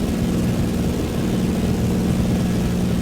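A prop-driven airliner's engines drone steadily in Microsoft Flight Simulator 2024 on a rainy flight out of Nairobi, Kenya, cruising at about 80 knots, a constant loud low hum with no pauses.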